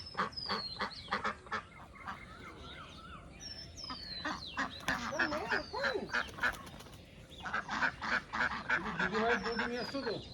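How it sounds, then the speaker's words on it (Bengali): Ducks quack and honk in repeated bursts, close by, during a weekend trip in Santiniketan. Faint human voices and outdoor noise sit beneath the calls. "তোমাকে বকে দিল হাঁসগুলো।"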